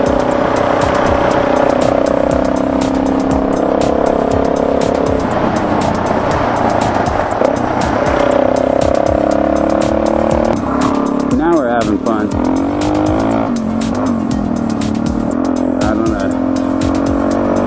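Motorcycle ridden through the Donner tunnels, a loud, close engine drone with shifting revs and echoing passages, a rider's voice talking over it.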